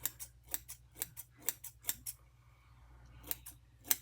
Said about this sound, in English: I recommend going with light thinning at first until you see how the scissors are going to behave